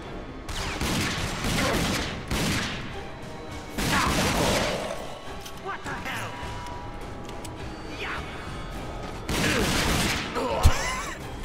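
Gunfire in the PC shooter RAGE comes as loud, dense bursts of shots and crashing impacts in several clusters, with a voice talking over parts of the action.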